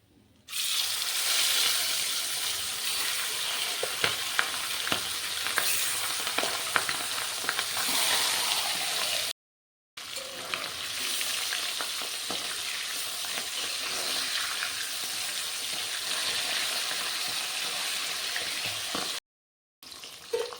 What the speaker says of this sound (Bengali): বাকি মাছগুলো আমি এখানে ভেজে নেব